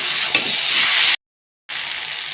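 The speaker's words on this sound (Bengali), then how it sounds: "আমুদা মাছ ভাজা দিয়ে দিলাম।" Fried amuda fish being tipped into a pan of small-fish curry: a close, loud, continuous sizzle with a small bump early on, broken by a short dead-silent gap before the hiss resumes.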